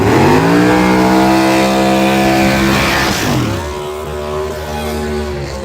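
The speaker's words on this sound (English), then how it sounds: "the way he did that burnout, I could tell that motor he got be hollering" Drag race car at a Texas radial drag racing event doing a burnout, engine roaring loud and sustained with rising revs, then dropping to a lower steady rumble.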